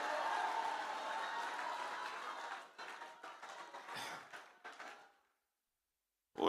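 Audience clapping for a contestant at a national extempo and freestyle competition final, a dense sustained round of applause that thins into scattered claps and fades to silence.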